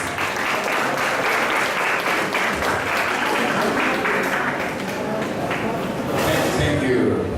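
An audience applauds a speaker at a Japanese-Philippine conference on the urban redevelopment of Tacloban City, with dense, steady clapping from a crowd for the whole stretch and swelling slightly near the end.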